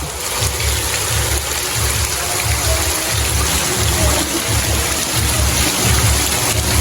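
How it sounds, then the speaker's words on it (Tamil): Steady, dense rush of heavy rain in Jaffna fills the whole clip, loud and constant, with a low rumbling undertone and no voices. "நல்ல மழை தான்"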